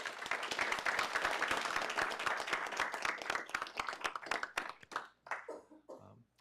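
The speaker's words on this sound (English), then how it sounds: "Let's give them a big round of applause." Attendees at a county board of supervisors meeting give a round of applause, steady clapping from a modest crowd that thins into scattered individual claps before fading out.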